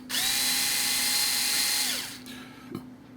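A power drill drilling holes for the cowling on an Edge 540 build whirs at a steady high pitch for about two seconds, then winds down, followed by a couple of faint clicks.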